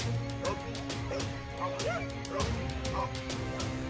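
Two dogs bark and yip in short, repeated bursts at a Komodo lizard, mid-distance, with a few whimpering yelps mixed in over steady outdoor background noise.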